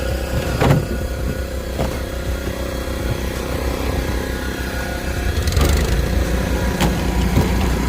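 A car wash shampoo machine runs steadily with a constant low motor hum and drone, with a few faint knocks and clicks over the top and no talking.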